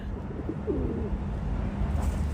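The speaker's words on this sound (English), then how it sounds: "Pigeons can spread diseases, they also poop on landmarks, and overall make the place dirty." Pigeons coo softly amid a steady background hum of an outdoor setting, a low burbling call rising briefly partway through before fading back under the ambient noise.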